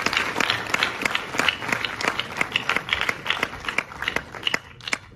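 An audience at a French business conference claps for the speakers, with distinct, fairly sparse hand claps landing in a quick uneven rhythm and tapering off at the very end.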